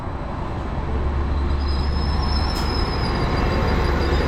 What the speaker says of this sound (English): here is our train, and it is 755 409.